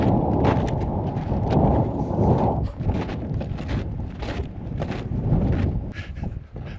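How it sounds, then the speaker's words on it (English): Strong wind gusting over a winter lake shore in a provincial park, a loud, roaring rush buffeting the microphone throughout with no voices. "Yeah, that wind is really blowing."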